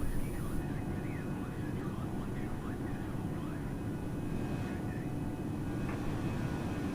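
Steady engine roar from an Airbus A320 in flight in Microsoft Flight Simulator, a continuous broadband drone at constant level, with a faint whining tone over it.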